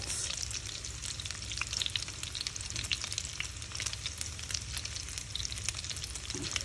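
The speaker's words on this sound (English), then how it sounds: "that is the rendering fat as the ground beef is cooking" Ground beef meatballs frying as their fat renders, shaken around in the pan: a loud, crackling sizzle full of rapid popping spatters, steady and close throughout.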